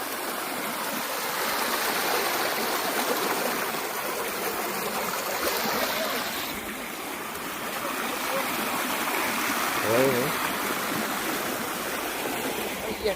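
Continuous rushing of a flowing stream fills the whole stretch, steady and fairly loud, with no pause in the broadband wash of water.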